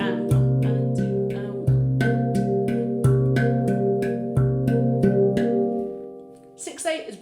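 A RAV handpan, a tuned steel drum, is struck in a steady 2/4 pulse of clear ringing notes, with low and higher tones alternating evenly before a brief scuffle at the end.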